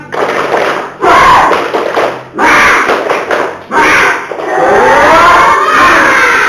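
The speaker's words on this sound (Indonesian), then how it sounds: "kita tepuk semangat dulu, ya. Tepuk semangat." A primary school class does a rhythmic tepuk semangat cheer, loud close-up bursts of patterned clapping punctuated by children's shouted chants, with a brief pause between groups of claps.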